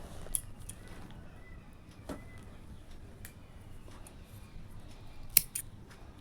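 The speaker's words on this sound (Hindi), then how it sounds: "अब मैं एक चेन लेके धागा को मैं काट कर दूंगी।" Scissors snipping crochet thread, a few sparse crisp cuts, the sharpest and loudest one near the end, close up over a quiet background.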